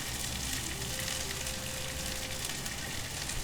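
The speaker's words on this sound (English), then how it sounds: "we're gonna saute the cauliflower and the remaining half of the onion over medium-high heat" Cauliflower and half an onion saute over medium-high heat in a pan, a soft, even sizzle and crackle hissing continuously at low volume with no talk.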